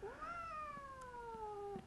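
A mature, light orange female tabby cat lets out a single long, drawn-out meow, close and clear against a quiet room.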